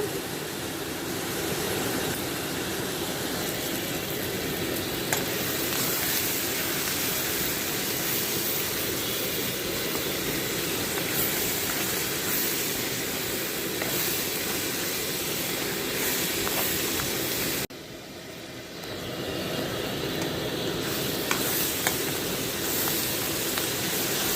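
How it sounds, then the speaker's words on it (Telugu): Onions frying steadily in a pan with turmeric and salt, a dense continuous sizzle close up and at even loudness, with one brief dip in level near the end before it resumes. "ఉల్లిపాయలు వేగినాయండి"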